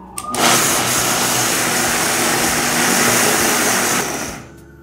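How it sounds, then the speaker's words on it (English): An electric blender grinds sorghum with salt and coconut sugar: a loud, continuous whirring roar that kicks in after a brief moment, holds steady for several seconds, then winds down. "Then we're going to blend it, first starting on low, then bringing the speed up little by little."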